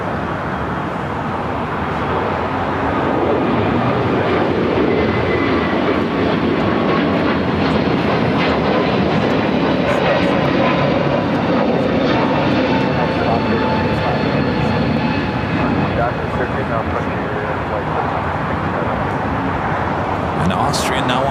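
Austrian Airlines airliner moving on the ground at LAX, a steady loud jet engine roar and rumble held throughout with faint ambient airport noise.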